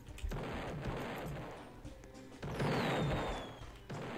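Minefield explosions in a Roblox minigame: heavy booming blasts roll out one after another, with a rising whine cutting through the middle and a dense rumbling wash between hits.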